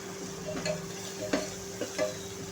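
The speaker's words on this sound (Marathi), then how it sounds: "आता हे मसाले देखील छान अशी फ्राय होतील आपल्या टोमॅटो सोबत." Goda masala spices fry with tomato in a pan, a faint, soft sizzle with a few light scraping stirs spaced through the short stretch, close and without talk.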